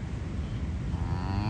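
Cattle lowing at a small coastal ranch on the road to Hana in Maui, a low droning moo rising and falling, faint and distant, over steady background noise.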